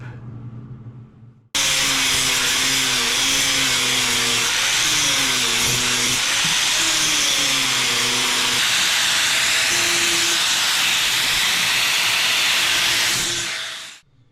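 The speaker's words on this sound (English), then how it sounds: "I'm going to weld that round" Welding on a motorcycle indicator stem for an adventure bike makes a loud, steady hiss with a buzzing hum that starts abruptly, holds for about twelve seconds and then cuts off.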